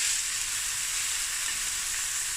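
Onions for a tripe curry fry steadily in a pan, a dense, even sizzle that holds at one level throughout, close and alone with no voices.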